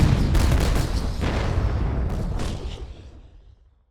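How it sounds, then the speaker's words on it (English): Synthetic cannon fire from a raging battle, a dense run of heavy booms and blasts that rolls on loudly for about two and a half seconds, then thins out and fades away. "As the battle raged on, the relentless cannon fire filled the air."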